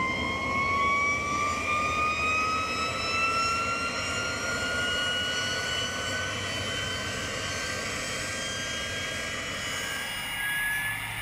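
A military jet on the flight line at Landivisiau naval air base runs steadily with its ground power unit connected, a loud continuous roar under a rising high-pitched turbine whine that holds for the whole stretch.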